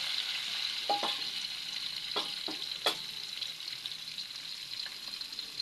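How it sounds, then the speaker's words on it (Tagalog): A dish sizzles steadily in a pan as it is sautéed, with a few scraping stirs of a utensil standing out over the constant frying hiss. "Sasangkot na natin mga kabady."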